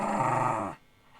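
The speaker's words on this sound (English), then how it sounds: "had to let the dogs out, as you saw" Dogs growl loudly for most of the clip's first part, a steady rumbling snarl that cuts off abruptly, leaving near silence.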